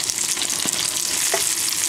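Tenderloin steak frying in a pan with olive oil, a constant close, bright sizzle and crackle with small pops.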